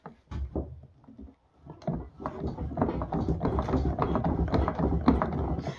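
A Chapin backpack sprayer being pumped hard, its lubricated piston cylinder giving repeated rhythmic squeaking, clunking strokes that start sparse and then run fast and continuous, close up.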